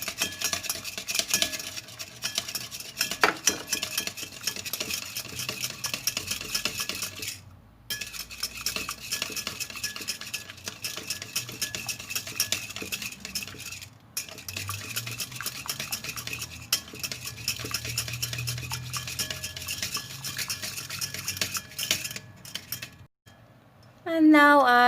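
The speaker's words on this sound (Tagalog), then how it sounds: "Gradually add the lemon juice while whisking." A whisk beats pancake batter in a bowl as lemon juice is gradually poured in, producing a fast, continuous metallic clatter of rapid whisk strokes, close and steady with brief pauses.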